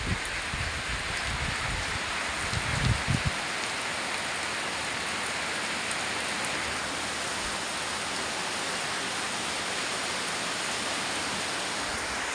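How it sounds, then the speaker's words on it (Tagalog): Heavy rain pours steadily with wind on a rainy morning, a dense, loud and continuous hiss of drops with a few low gusty rumbles near the start and no speech. "Salamat sa blessing na malakas na ulan."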